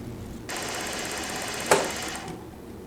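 Juki DDL 8700 industrial sewing machine running steadily while winding a bobbin, a continuous whir lasting about two seconds with one brief sharp click partway through, heard close and alone.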